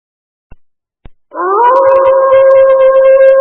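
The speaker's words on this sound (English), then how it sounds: "Wolf." A wolf gives one long, loud, sustained howl that rises and then holds steady, preceded by two short sharp clicks.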